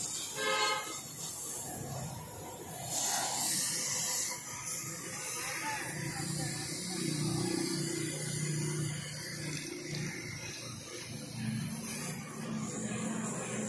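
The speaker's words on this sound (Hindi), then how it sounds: "अभी इसको पानी मारेंगे" Water sprayed under pressure through the galleries and holes of an acid-cleaned engine cylinder block, a steady broad hissing rush running throughout with people talking over it.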